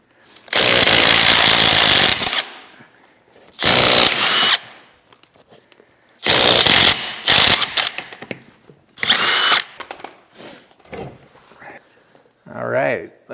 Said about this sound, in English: got a 21 millimeter socket here on the impact gun